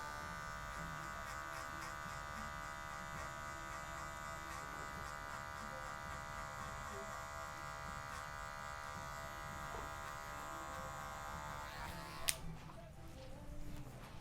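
Electric hair clippers buzz steadily at close range, cutting a taper using the clipper-over-comb method, with a sharp click and brief rustling near the end as the clippers are handled.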